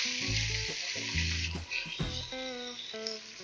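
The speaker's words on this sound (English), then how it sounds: "You'll hear that sizzle." Steady sizzling of chicken frying in hot oil with onion fills the background, mixed with tonal music notes playing over it.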